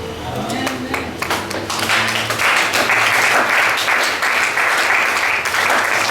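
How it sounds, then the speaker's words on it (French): A church congregation claps and cheers in acclamation, the applause swelling into a loud, sustained roar of many hands, while voices carry over the top. "Oui, tu as acclamé"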